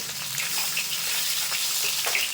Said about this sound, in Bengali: বাকি মাছটাও একইভাবে ভেজে নেবো আমি